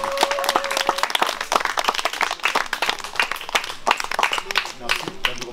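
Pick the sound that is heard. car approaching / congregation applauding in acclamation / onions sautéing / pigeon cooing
congregation applauding in acclamation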